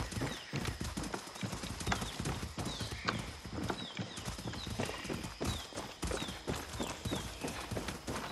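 Horse hooves clip-clop in a steady rhythm with occasional neighs in Far Cry 6, close and clear over a busy game soundscape of faint background chatter and ambient noise.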